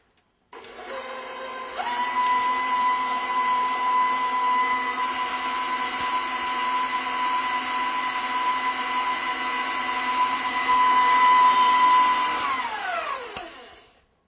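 An electric mixer whirs steadily at medium-high speed through oatmeal date cookie batter. A loud, continuous motor whine starts near the beginning, holds for about twelve seconds, then spins down and stops.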